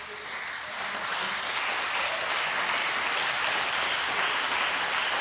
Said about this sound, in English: The applause is for Mark Allen